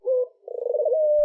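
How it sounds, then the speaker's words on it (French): Pigeons cooing close by: a short low coo, a brief pause, then a longer rolling coo that warbles in quick pulses before settling into a steady tone, ending with a soft thump. "Pigeons!"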